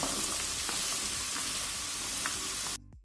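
Pumpkin and carrot fry in a little oil in a pan or pot, a steady close sizzle broken by soft stirring scrapes before it cuts off abruptly near the end.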